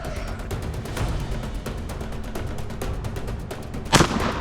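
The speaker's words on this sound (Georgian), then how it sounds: "იქით მხარეს მესმოდა სროლები." Gunfire during a sanitary hunt at the Gardabani hunting farm: a string of sharp, distant cracks rings out at irregular intervals over a busy outdoor background, with one closer, louder shot near the end.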